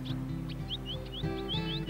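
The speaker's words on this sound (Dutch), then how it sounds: "Hoor oom die vink?" A finch sings outdoors after rain in spring, with a run of short, bright rising chirps repeated steadily over a low background hum.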